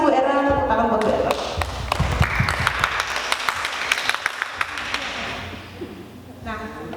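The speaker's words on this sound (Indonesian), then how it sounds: "tepuk tangan buat Bu Erna" Applause for a teacher in a classroom session, a burst of claps that starts after a voice, swells into scattered clapping with sharp distinct hits, then fades near the end.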